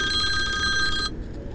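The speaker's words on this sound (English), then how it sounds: "Hit the phone ring over there." A telephone rings with a bright electronic trill that holds steady for about a second, then cuts off, leaving low room noise behind, with no voices heard.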